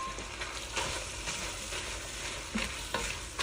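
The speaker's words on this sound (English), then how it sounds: "I'm gonna go ahead and add in 1 medium finely chopped onion and continue to cook." Mild Italian sausage, ground beef and finely chopped onion fry in a pan with a steady, fairly soft sizzle, joined now and then by the scrape of a stirring utensil, with no voices.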